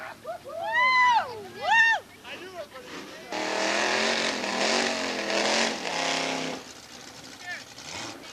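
A 1973 Pontiac Ventura drag car with a 402 cubic inch big-block Chevy makes a run at Gimli, a loud sustained engine roar of about three seconds heard after a public-address announcer talks.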